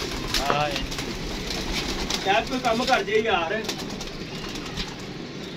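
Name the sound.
pigeon cooing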